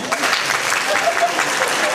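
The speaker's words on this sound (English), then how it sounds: "Just by round of applause for the parents" Applause for the parents from a school audience at Joan of Arc School, Rickmansworth, a brief, full burst of many hands clapping together, loud and continuous.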